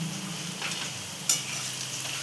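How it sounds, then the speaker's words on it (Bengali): Onions fry in oil with whole spices in a kadai, giving a continuous close sizzle and hiss, with one sharp metallic scrape of stirring partway through. "প্রথমে কড়াই তেল দিয়ে গোটা গরম মশলা ফোড়ন দিয়ে পেঁয়াজ দিয়ে ভাজছি"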